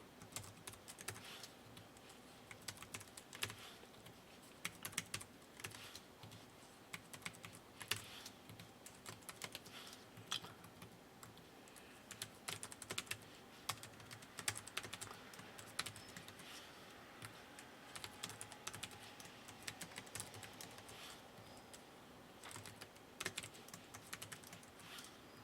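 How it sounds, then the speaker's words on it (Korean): Typing on a computer keyboard, a long run of quick, irregular key clicks, close and quiet, with no voices. "여기서는 타이핑 또 입력하겠습니다"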